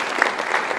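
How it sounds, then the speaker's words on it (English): Audience clapping a round of applause for a man at a presentation event, a brief, even patter lasting under a second. "Can we all give Brother Ryan a round of applause?"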